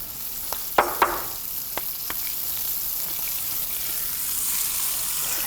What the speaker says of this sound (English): You want the prosciutto to sear.